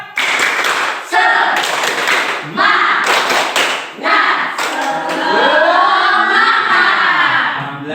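A school class does a rhythmic clapping chant, sharp claps in bursts and patterns mixed with chanted voices that carry on after the clapping stops.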